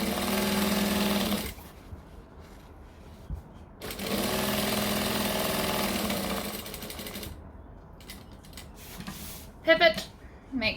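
A sewing machine stitches through waterproof canvas while a drawstring bag is being made, running in a steady mechanical whir for a couple of seconds, stopping, then running again before quieter handling noises.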